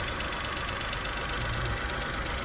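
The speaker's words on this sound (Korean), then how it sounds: "엔진 소리 상당히 부드러워요." A used Daewoo Matiz engine idles smoothly, a steady, even mechanical hum and rattle heard close and unbroken with no talking.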